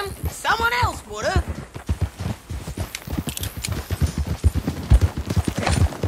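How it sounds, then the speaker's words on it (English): Horse hooves clip-clop at a steady, even trot in Red Dead Redemption 2, the rhythmic beats continuing throughout with other game sounds layered over them. "Get on your horse, John."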